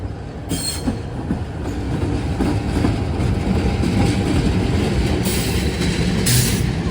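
A CC206 locomotive hauling the Lodaya train rolls past at close range, a loud steady rumble of wheels and cars on rail with brief bursts of high squeal, continuous throughout.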